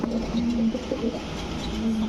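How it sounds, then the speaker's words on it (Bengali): High-grade almond-coloured Danish pigeon cooing in soft, low, repeated tones close by, with a steady background hum underneath and no talking. "এটা হচ্ছে হাই গ্রেডের ড্যানিশ কবুতর"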